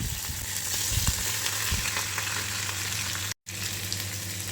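Potatoes dropped into hot oil with curry leaves and chillies for a fasting samo rice dish, giving a steady close sizzle and crackle with a few stirring scrapes and a brief cut near the end.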